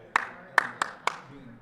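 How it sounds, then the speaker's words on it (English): Four distinct hand claps in an uneven pattern, close and crisp, in a quiet podcast room at a pitch event in Arizona, with faint room tone between the claps. "None of you know how that clap works"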